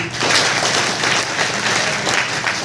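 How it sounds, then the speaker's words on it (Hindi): An audience claps together after a cricket story at a motivational talk, producing a dense, loud burst of applause that holds steady for a few seconds. "बजाओ ताली"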